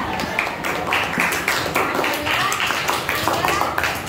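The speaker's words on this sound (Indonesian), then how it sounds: "Oke, tepuk tangan dulu Ina." A class of children claps hands together in a rhythmic pattern of short, regular bursts, close by, with voices chanting and talking over the clapping in a classroom.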